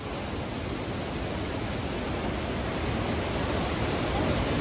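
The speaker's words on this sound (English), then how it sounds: "We are here at the Eagle Falls" Eagle Falls, a raging waterfall at Emerald Bay State Park in Lake Tahoe, roars as a steady, loud, broadband rush of falling water that stays constant throughout with no speech.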